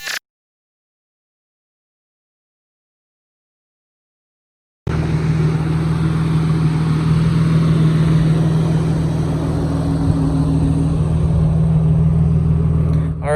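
A single-turbo Audi B6 S4 pulls hard on a road in Mexico. After several seconds of silence the engine cuts in loud and close, holding a deep, steady droning roar as it accelerates.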